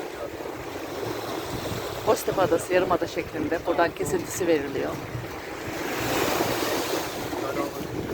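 Wind blowing steadily by the sea at Amasra's small harbor on the Black Sea coast, rushing over the microphone, with waves surging in the background and someone talking over it.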